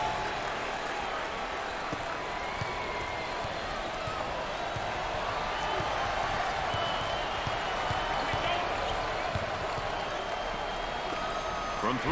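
Loud, continuous crowd roar fills a basketball arena during a Michigan State versus Syracuse NIT game, steady throughout with scattered claps and shouts, while a commentator talks over it.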